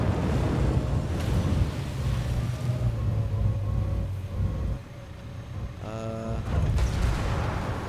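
An armored APC vehicle in Ghost Recon Wildlands rolling into water, a steady rumbling wash of engine and splashing water with a short, sharper mechanical burst near the end, loud and alone.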